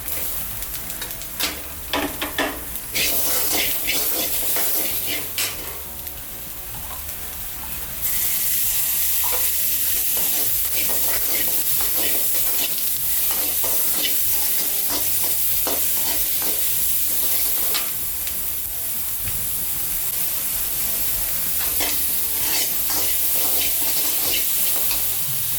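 Tomatoes stirred and fried in a pan for village-style pepper tomato kulambu: a steady loud sizzle with repeated scraping strokes of a spoon against the pan, continuous throughout with no talking.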